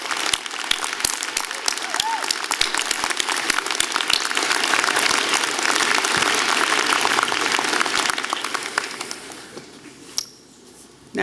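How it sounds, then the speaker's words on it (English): Audience applause at a university convocation ceremony for a symphony wind ensemble, a dense sustained crowd clapping for about ten seconds before fading out to near silence at the end. "I'd ask you to join me in a big round of applause for the Okanagan Symphony Wind Ensemble"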